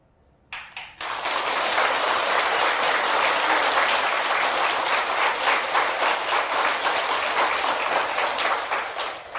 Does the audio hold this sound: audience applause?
yes